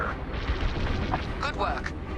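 Blaster fire pounds a shuttle during Star Wars Squadrons space combat: a dense, continuous barrage of booming impacts and bursts, loud throughout, with brief voice-like chatter mixed in toward the end.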